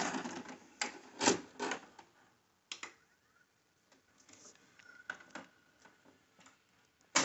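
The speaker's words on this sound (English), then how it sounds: "I'm going to put this tape in here." VHS tape sliding into a Philips DVP3355V/F7 DVD/VCR combo, heard as faint, close clicks, clunks and rattling mechanism noises with quiet gaps between them.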